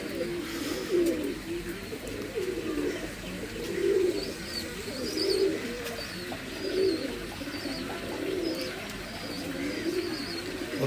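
Pilanka pigeons coo nearby in a steady run of rising and falling phrases, roughly one swell every second or so, with soft higher chirps threaded over the murmur.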